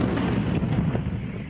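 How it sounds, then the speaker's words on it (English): Explosions and gunfire in Fallujah during an Iraqi forces offensive, heard as a dense, continuous rumble of distant booms and shots with no clear separate blasts. "Explosions and gunfire"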